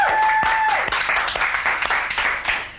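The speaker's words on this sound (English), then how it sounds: "I love the people that clap." Studio audience on a Pop Idol Extra television show applauding, a dense steady patter of many hands clapping close and loud throughout, with a brief electronic tone near the start.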